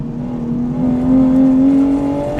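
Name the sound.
Toyota GR Supra accelerating on track, traction control off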